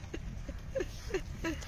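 A pony's hooves clip-clop on the ground at a stadium riding ring, several moderately faint, evenly spaced steps under a low background murmur.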